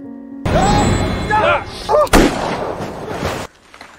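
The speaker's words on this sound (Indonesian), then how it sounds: "That was a gunshot." A single gunshot cracks out during a tense confrontation at a shelter in a snowstorm: a sharp, loud burst standing briefly above voices and a dense, noisy background.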